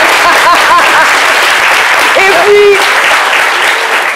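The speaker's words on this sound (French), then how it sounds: "Est-ce qu'on peut applaudir pour la reine du Placali?" Loud, dense applause from an audience on a midday French-language show, sustained throughout, with someone speaking briefly over the clapping.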